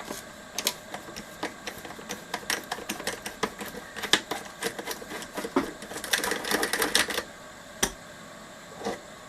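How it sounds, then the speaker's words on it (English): An 8mm socket wrench removing nuts from a Tom Evans Mastergroove SR mkIII preamp gives rapid, close ratcheting clicks in dense irregular bursts, with a brief pause before the clicking resumes. "Just going to go with the 8mm socket."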